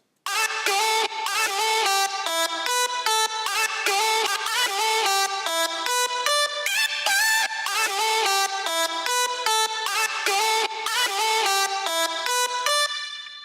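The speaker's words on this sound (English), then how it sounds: "the first and main lead we have here is this" A bright, harmonically rich synth lead plays a steady stream of short, evenly spaced notes with a low-pass filter taking off the very top, loud and continuous for about thirteen seconds before stopping abruptly, with no voices.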